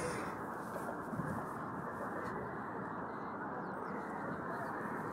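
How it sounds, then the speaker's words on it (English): A dense flock of geese by the Potomac River in Washington, DC honks and quacks continuously, a loud overlapping din of many birds nearby. "The geese."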